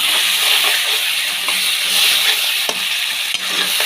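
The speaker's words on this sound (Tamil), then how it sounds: "போட்டு நல்லா வதக்கிக்கலாம்" Tomatoes and curry leaves sautéing in a pan for chicken kurma, a steady loud sizzle and hiss with intermittent scraping stirs, close up and without talk.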